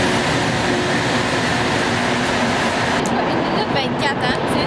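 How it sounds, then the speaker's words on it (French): Steady, loud rumble and hiss of a moving metro train heard from inside the car, continuous throughout with a slight change in the noise near the end. "on est dans le métro"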